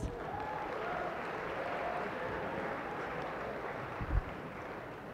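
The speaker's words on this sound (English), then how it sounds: "Give him a round of applause." Round of applause for Brent from an audience at a speaker-series event, a steady broad wash of clapping filling the whole stretch at even loudness, with a brief louder bump near the end.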